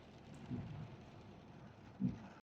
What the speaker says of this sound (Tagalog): malakas po yung ulan ngayon dito